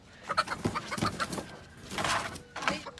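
Chickens cluck in short, irregular calls from a backyard flock being tested in Lake Elsinore, with a busier burst of clucking near the end and no talk over it.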